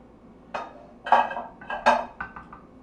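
Rice spooned around in a casserole dish, a handful of close clinks and scrapes of a metal spoon against the dish in an uneven rhythm.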